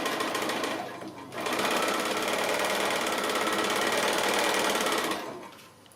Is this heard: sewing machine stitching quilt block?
yes